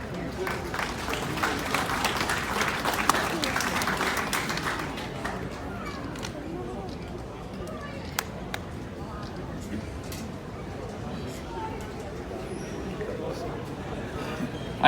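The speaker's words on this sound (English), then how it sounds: "Big round of applause." Applause breaks out at a hot rod and custom car show awards ceremony at Rosehill racecourse, with clapping strongest at first and then fading into crowd chatter and outdoor background noise.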